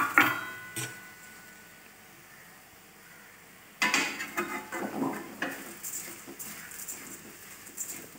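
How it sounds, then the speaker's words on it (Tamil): A brief clatter and pour, then a bubbling, rustling mix as a cup of dry flattened rice is tipped into boiling water for upma, with light scraping continuing. "இப்போ நம்ம ஒரு கப் அவுள் சேர்த்துக்கலாம்"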